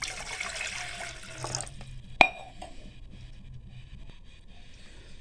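Water from a tap streams into a pan sitting on a stove, a steady splashing pour for about a second and a half, then a sharp metallic clink and quiet kitchen background with no voices.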